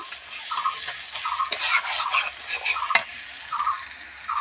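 Mutton curry spice paste is stirred and scraped in a pan, giving soft sizzling and repeated spatula scrapes with a few sharp metallic knocks against the pan, close and moderately quiet, with no talk.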